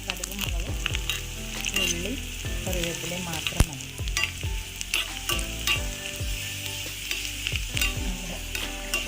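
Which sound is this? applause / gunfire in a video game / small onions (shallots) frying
small onions (shallots) frying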